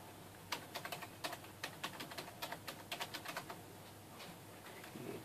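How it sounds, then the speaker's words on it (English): Fingers type a password on a computer keyboard, producing a quick series of close, light key clicks in short bursts with brief pauses, against a low steady background hum. "You type in your password."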